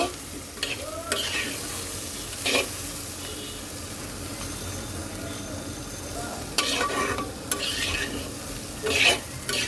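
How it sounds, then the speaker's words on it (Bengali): A spoon stirs potato and soybean curry frying in a pan after salt is added, giving a soft steady sizzle broken by several sharp scraping stirs, with no voices. "লবণ দিয়ে দিচ্ছি স্বাদ অনুযায়ী লবণ এইবার মিক্সড করে দেব"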